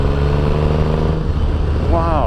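Triumph Rocket III motorcycle engine idling with a low, steady, diesel-like throb up close, and someone speaking briefly near the end.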